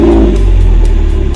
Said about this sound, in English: We only need to press the key against the ignition switch to start the car.